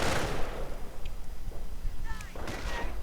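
Video game battle with German MG42 machine gun fire and artillery, rapid bursts and booms crackling throughout at moderate distance, with a few metallic pings and no talking.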